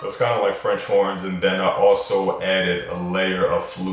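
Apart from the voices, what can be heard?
No everyday noise stands out behind the speech.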